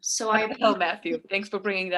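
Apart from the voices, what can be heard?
No distinct noise like a dog, phone or traffic.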